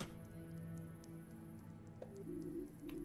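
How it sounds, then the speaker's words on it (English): Water drips from a leaking ceiling in a video game, soft scattered drops over a humming background, with a few small splashes near the end. "Carl, it's raining from the ceiling."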